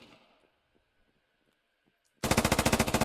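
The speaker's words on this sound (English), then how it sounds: "This saw gunner still up here on the catwalk laying down fire." A SAW gunner on a catwalk in the video game Squad lays down a rapid, loud burst of machine gun fire, about a dozen evenly spaced shots after near silence with faint distant cracks.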